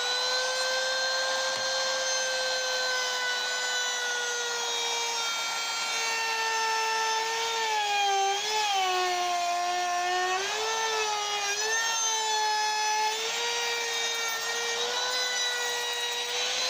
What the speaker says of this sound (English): I'll make a little trim cut, a little score cut.